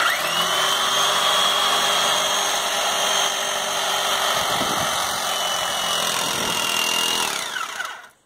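Small power saw cutting through a rubber tyre to make a plant pot, a steady loud whine running throughout with slight pitch dips as the blade works, stopping abruptly at the end.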